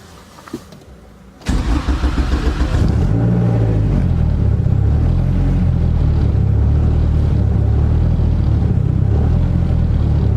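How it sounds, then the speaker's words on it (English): A turbo four-door Honda Civic cranks briefly, fires up loudly and settles into a steady, slightly lumpy idle nearby, with no talk over the engine. "we'll see if it starts up first try"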